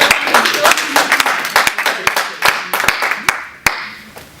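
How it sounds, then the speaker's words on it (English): An audience applauds to welcome a guest onto a business interview show, with dense, steady clapping and sharp individual claps that carry on for several seconds. "Let's give Sandra a round of applause"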